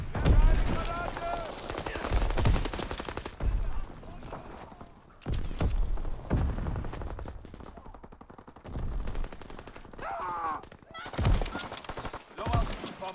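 Rapid bursts of gunfire from a Call of Duty WW2 firefight crack out repeatedly, with short volleys and single shots. Announcer callouts and battle voices are mixed in between the shots.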